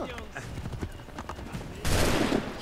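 Horse hooves clip-clop on a street in the video game Assassin's Creed 3, a run of close hoof beats followed by a sudden loud burst of noise, with voices over the game sound.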